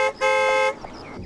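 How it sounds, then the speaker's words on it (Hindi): A car horn gives two loud, close honks, a short one then a longer sustained blast, with faint road noise after. "अरे हॉर्न मारो ना भाई, ये कौन चल रहा है रास्ते के बीच में?"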